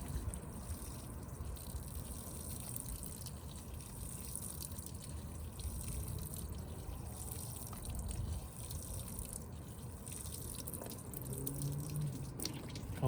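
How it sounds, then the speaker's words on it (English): A repotted ficus bonsai is watered, and water runs off in a steady, soft wash of trickling and gushing that continues evenly throughout. "I'm just going to water it a little bit more, so that hopefully the water that runs"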